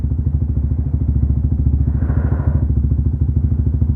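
A modified Yamaha Vixion motorcycle set up for touring, its engine pulsing in a rapid, steady rhythm close by and swelling briefly under the throttle mid-way.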